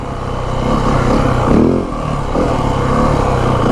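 A 2025 Yamaha WR450F dirt bike runs in second gear. Its single-cylinder engine drones loudly and steadily up close, with a brief rise in revs midway before settling back to an even roar.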